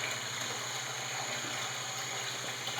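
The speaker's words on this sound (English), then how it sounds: "So we're going to turn this on, and we're going to run it on the electric pump." Electric pump pushing water through a home water filter system, a steady continuous rush of flowing water with a constant mechanical hum underneath, close and even throughout.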